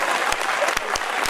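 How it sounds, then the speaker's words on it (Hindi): Audience applause at a Hindi comedy poetry event, a short burst of many people clapping together, dense and lively, with a few distinct louder claps punctuating it. "और आप एक बार जोरदार तालियां तो बजाएं"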